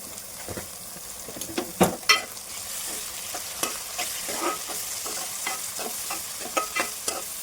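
Tomatoes seasoned with turmeric and salt fry in a pan, a steady soft sizzle broken by louder scraping stirs and clinks of the spoon against the pan.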